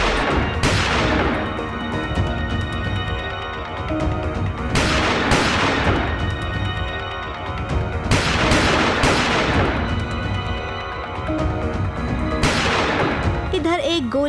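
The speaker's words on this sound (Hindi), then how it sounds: "इधर एक गोली चली और बॉम्ब फूटा" A gunshot and bomb explosions: repeated loud blasts burst out in several bursts, each trailing into rumbling echoes, with a voice partly audible between them.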